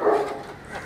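A bully-breed dog gives one short close bark that tails off quickly, heard alone.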